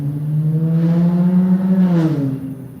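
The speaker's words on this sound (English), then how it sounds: "I fucking hate loud cars," A loud car engine revs close by, its pitch holding steady then rising and falling in a drawn-out roar.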